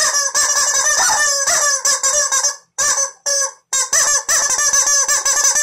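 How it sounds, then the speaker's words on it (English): Screaming yellow rubber chicken toys squawk in loud, harsh, honking bursts, several squeezes in quick succession with a couple of short gaps, close and alone with no talking. "They're Screaming Yellow Rubber chickens."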